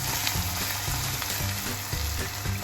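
Turmeric and red chili powder stirred into a frying paste in a pan for vada pav, giving a loud, close, continuous sizzle with faint scraping stir strokes.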